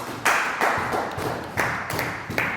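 A church congregation claps in rhythm, a steady series of loud, full hand claps repeating roughly every third of a second, filling the room without talk.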